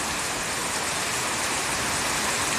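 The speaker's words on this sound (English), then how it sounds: "The slanted rain has started. You can actually hear it." Slanted rain during a severe thunderstorm in Tarrant County, a dense, steady hiss of heavy rainfall that stays loud and close throughout, with no talk.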